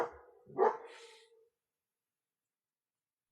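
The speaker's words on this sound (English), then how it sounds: "Now his bark is so freaking loud." A large German Shepherd gives one loud, deep bark at close range, a brief woofing burst that trails off, followed by silence.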